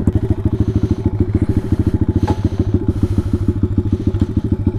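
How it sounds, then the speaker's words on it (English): A Taotao DB17 125 pit bike engine running just after startup, a loud, close, rapid single-cylinder putter with a steady even beat and a brief sharp clink partway through, with no one speaking. "that's just a quick Taotao startup"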